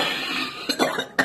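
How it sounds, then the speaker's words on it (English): A woman clears her throat close to the mic, a few short rough hacking bursts with brief pauses between them in a quiet room. "Let me clear my throat."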